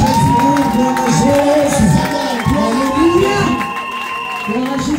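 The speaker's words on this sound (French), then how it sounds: "J'aimerais qu'on acclame le Seigneur Jésus" A church congregation at a Sunday worship service cheers and acclaims Jesus, a dense crowd roar with shouts, whoops and scattered applause that holds loud and steady before easing slightly toward the end.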